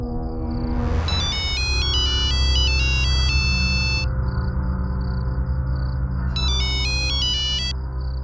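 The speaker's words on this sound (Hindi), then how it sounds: "मैं गीता को फोन कर देता हूँ।" A phone rings indoors in a TV crime drama, playing a repeating electronic ringtone melody in two loud bursts separated by a pause, with a low background hum and no talking.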